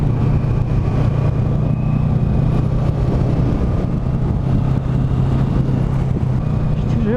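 Steady engine drone from a Kawasaki Z650 motorcycle being ridden on the road, a continuous mid-pitched hum with wind noise, loud and unbroken throughout.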